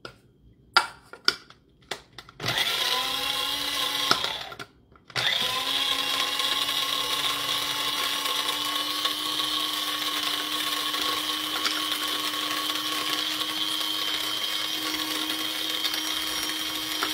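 Small electric grinder whirring in a kitchen, starting with a few short bursts, cutting out briefly, then running in a steady high-pitched whine to the end.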